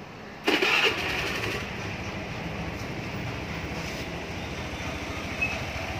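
A small motorcycle engine cranks and catches with a short burst, then settles into a steady, fairly quiet idle rumble that continues to the end.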